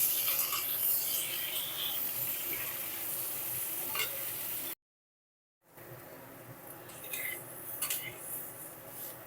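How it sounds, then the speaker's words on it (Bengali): Raw jackfruit pieces fry in hot oil with a continuous sizzle and scraping stirs, cutting to a brief silence midway before the frying and stirring resume. "এই তেলের মধ্যে প্রথমে এঁচড়গুলো ভেজে নেব"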